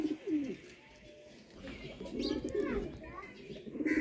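Teddy breed pigeons coo softly in short, throaty bursts, close by, while someone talks over them.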